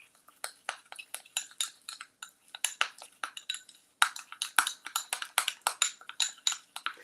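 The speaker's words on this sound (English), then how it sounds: "I'm just gonna give it a stir" A spoon stirring yellow gel food coloring into lemon icing in a bowl, rapid rhythmic clinks and taps against the side, close and clear with brief pauses.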